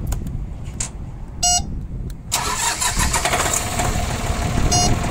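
A used mini tractor with loader, power steering and hydraulic attachment tilt cranks briefly, then its engine catches and settles into a steady close running rumble, with a couple of short high chirps along the way.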